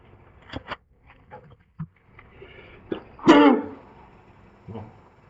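A single sharp, explosive sneeze bursts out in a quiet room, preceded by a few soft throat noises and small clicks.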